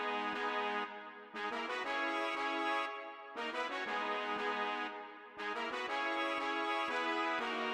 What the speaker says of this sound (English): I really wanted a horn sound, so I just went online and I found this sample